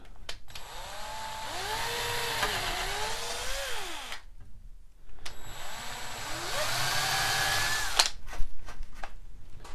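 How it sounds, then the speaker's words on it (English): A handheld power drill with a 5/64 inch bit whirs through wood in two bursts, its pitch rising and falling as the bit bites, separated by a brief pause. "I use a 5/64 inch drill bit, and I drill a hole on either side."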